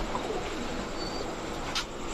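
Sabji racer pigeons, two pairs of males and females, give soft, muffled coos against a hissy background, faint and continuous with no speech.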